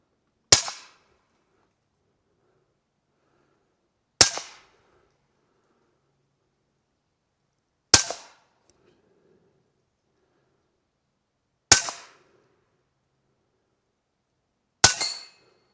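Five sharp, loud reports from a Huben GK1 air rifle firing .22 caliber 35.8 grain slugs at max power, spaced about every 3.7 seconds with near-silence between each shot.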